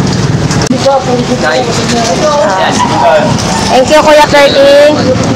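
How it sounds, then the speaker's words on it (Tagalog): Heavy, unrelenting rain pours steadily on a street in Tondo, Manila, a dense, loud hiss that fills the whole clip while people talk over it. "Grabe, walang humpay itong ulan na ito."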